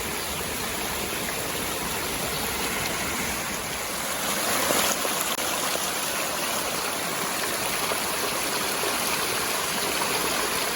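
A stream on the Appalachian Trail rushes and splashes continuously at close range, a steady broadband flow, with no talking.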